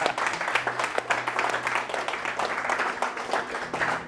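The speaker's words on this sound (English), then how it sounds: "and we can clap." An audience claps at a Dubai forex community event, a dense burst of applause that comes in uneven waves, with some voices mixed in.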